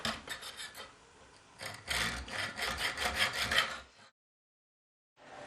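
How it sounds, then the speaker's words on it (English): A small junior hacksaw rasps back and forth in quick, close strokes, pausing briefly, then cutting again before stopping into silence, cutting a part for a Dobsonian telescope. "using the small junior hacksaw, you carefully cut across"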